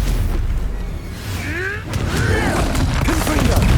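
Stupefy spell impact in Hogwarts Legacy, a loud booming hit amid a continuous clash of combat effects, with a brief voice cry in the middle of the exchange.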